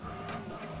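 HP Deskjet all-in-one inkjet printer running off an alignment page, a steady close mechanical whir and rattle of the print carriage and paper feed throughout, with no talk.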